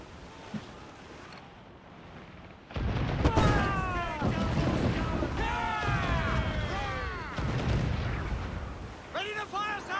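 Ship cannons fire in Assassin's Creed Black Flag at sea: booming blasts erupt over wind and crashing waves, followed by whistling, rumbling debris, while crew voices shout orders.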